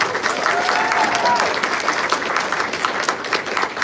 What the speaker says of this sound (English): let us give her a round of applause for her election